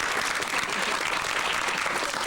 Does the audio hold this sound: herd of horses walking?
no